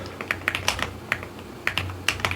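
Computer keyboard typing in quick, uneven bursts of clicky keystrokes, close and fairly quiet, with a low steady hum underneath and no talking.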